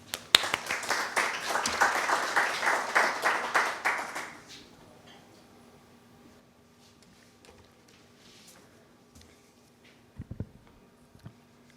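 Lecture audience applauding to welcome a speaker, a steady burst of many hands clapping for about four seconds before dying away to quiet room tone with a few faint knocks later.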